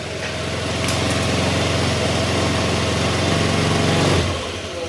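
A repaired motorcycle engine, previously noisy, idles steadily and loudly up close with a smooth, even putter, then cuts off abruptly near the end.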